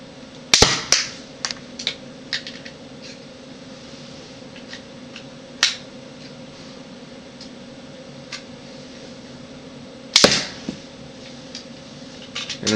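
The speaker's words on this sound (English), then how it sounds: "I'm just going to show you how powerful it is by shooting it at this box." A small Lego mini crossbow fires a few shots into a box. Three sharp, crisp snaps are spaced several seconds apart, with faint clicks and ticks of handling between them, in a quiet room.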